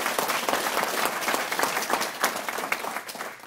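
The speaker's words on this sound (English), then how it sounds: "I want to invite you to applaud Chuck and his team for the job that they do for this community." Banquet audience applauding a community team, a steady dense wash of clapping from many hands throughout, moderately loud and close, with no voices over it.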